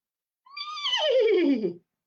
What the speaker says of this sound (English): Laughed the horse as Rufus tumbled from the bush